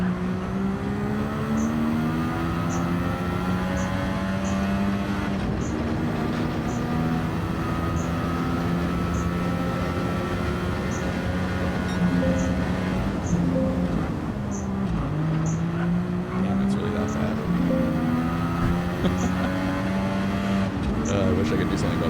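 Race car engine droning through a lap of Interlagos in a racing video game, a steady rising and falling whine with gear shifts, continuous and fairly loud, with a voice talking over it.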